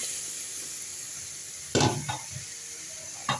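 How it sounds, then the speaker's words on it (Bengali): Pumpkin sautéing with spices in a pan: a faint steady sizzle with a few louder scraping stirs near the end, nobody talking. "এবার কুমড়োটা ভালোভাবে কষিয়ে নিব"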